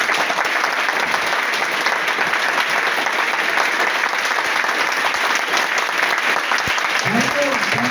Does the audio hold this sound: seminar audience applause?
yes